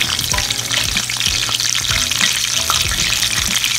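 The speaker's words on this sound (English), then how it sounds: "So I'm going to turn these on the fat side just for a moment. Let some of that fat cook down." Lamb chops seasoned with garlic and rosemary sear fat side down in a hot pan, a loud, dense, close sizzle and spatter running continuously without pause or speech.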